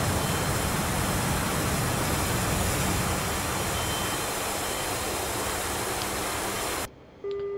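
A jet engine roars steadily and loudly as the aircraft takes off in DCS on the Georgia at War map, a broad sustained rush that cuts off abruptly near the end.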